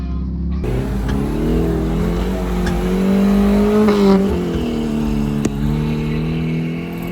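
An off-road truck on a dirt trail at Corral Hollow runs loud and steady, its engine note rising and falling as it drives along, close and continuous throughout.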